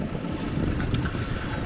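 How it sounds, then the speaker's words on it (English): A moored sailboat's engine idles steadily at anchorage, a continuous low rumble blended with wind buffeting the microphone and nearby water, with no talking. "So engine's running"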